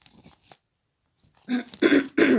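Oracle cards are laid down over a card spread, heard as a few brief, close papery slaps and rustles after a near-silent pause.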